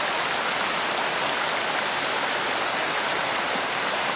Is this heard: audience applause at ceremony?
no